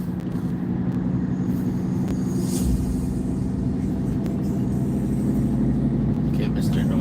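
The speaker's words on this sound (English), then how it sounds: "Okay, Mr. Noisy Truck." A noisy truck passes by the road, a loud, low rumbling engine drone that holds steady for several seconds with a mechanical hum, heard close from inside a vehicle while someone speaks over it.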